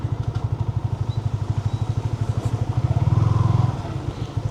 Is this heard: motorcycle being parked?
yes